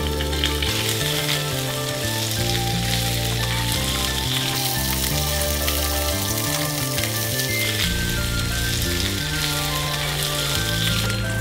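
Ginger, cinnamon, star anise, bay leaf, dried chili and pork belly stir-frying for a Thai beer-braised pork dish, a steady sizzle running beneath a loud melodic musical backing throughout.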